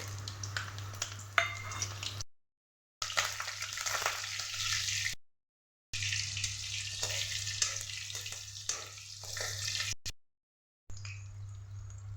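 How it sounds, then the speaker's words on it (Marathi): Green chillies fry in hot oil with a steady close sizzle and crackle, broken by several short silent gaps. "इथे आपलं तेल चांगलं तापून गेलेलं आहे त्याच्यात आपण पहिली ह्या मिरच्या फ्राय करून घ्यायच्या आहेत"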